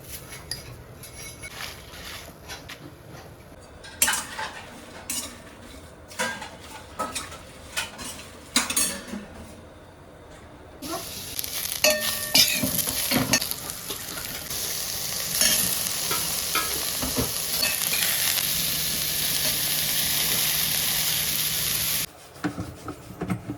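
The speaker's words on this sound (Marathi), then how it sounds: "आता मिरची भाजून घ्यायची." Green chillies roasting in a pan at home, with scattered clinks and stirring at first, then a steady sizzle and frying hiss with spoon scrapes that builds and cuts off near the end.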